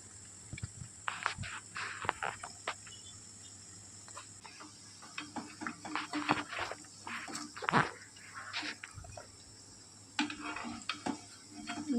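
Gram flour pakodi batter drops into hot oil and fries with a soft, steady sizzle, over intermittent stirring scrapes and clinks of a utensil against the pan, at close range.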